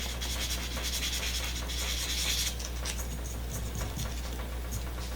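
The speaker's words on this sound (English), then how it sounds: "I'm going to sand a little bit more over this way." Steady, close abrasive rubbing as sandpaper works over the metal body of a diecast AMC Rebel model car, continuous and even with no talking.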